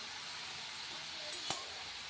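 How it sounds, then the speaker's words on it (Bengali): Banana stem fries in plenty of oil tempered with mustard seeds and dried chillies, giving a steady, quiet sizzle with one sharp crackle or clink near the end, and no voices. "আজকেও থোর ভাজা বসিয়েছি একটু বেশি করে তেল দিয়ে আর সর্ষে আর শুকনো লঙ্কা ফোড়ন দিয়েছিলাম"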